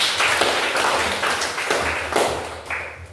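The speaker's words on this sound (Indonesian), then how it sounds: "Mari kita beri tepuk tangan untuk teman-teman." A small group of classmates clapping in a classroom, a few loose bursts of hand claps at close range, uneven and fairly light, with no talk over them.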